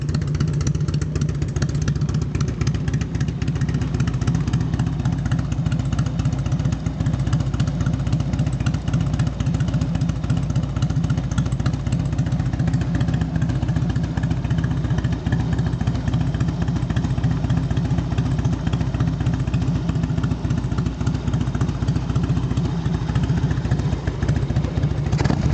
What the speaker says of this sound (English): There's more of the idle speed. You can hear a rumble.